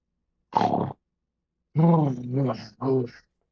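A voice imitates a giant snoring inhale with a short throaty grunt, then a longer drawn-out rasping breath split into two voiced surges.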